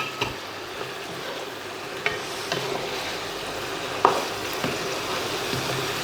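Fried fish pieces sizzle steadily in a pan as they are stirred into a crispy, spicy dish, with occasional sharp clicks of a utensil against the pan over a constant close hiss.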